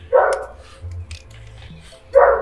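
A dog barks twice near the microphone, with a short gap between the barks and low rumbling room noise between them, heard in a Nigerian Nollywood royal action drama.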